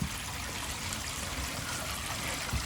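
Water from the black tank of a Jayco 27BHB RV drains through a clear pipe section, a steady rushing, trickling flow heard close up with no talking.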